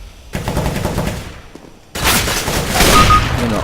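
Gunfire from the video game Overwatch, bursts of shots in a match: a loud opening burst, a quieter gap, then dense, sustained firing that swells toward the end.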